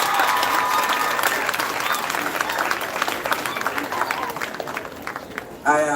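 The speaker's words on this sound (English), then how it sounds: "Come on, a bigger round of applause" A graduation ceremony crowd gives a big, steady round of applause throughout, dense and continuous, with some crowd noise mixed in, ending in a brief louder sound.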